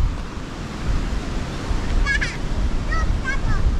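Strong typhoon wind roars steadily over surf on a beach in the Camotes Islands, Philippines, a loud continuous rumble with a few faint high bird-like squeaks near the end.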